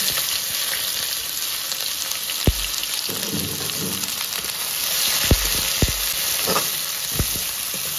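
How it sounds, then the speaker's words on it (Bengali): Chopped onions drop into hot oil tempered with cardamom and cinnamon for a mutton keema tadka, giving a steady close sizzle with a few sharp thuds and scrapes as the pan is stirred. No one speaks. "তেল গরম হয়ে গেছে, ফোড়নটা দিয়ে দিচ্ছি। এবারে পেঁয়াজ কুচিয়ে রেখেছি, পেঁয়াজগুলোকে দিয়ে দিচ্ছি।"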